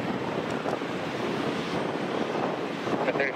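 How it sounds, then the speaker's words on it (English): Gusty wind at Minneapolis–Saint Paul airport ahead of an approaching storm roars and buffets the microphone in a steady broadband rush with slight surges, with no talking. "The wind is 190 at 12 gust 100."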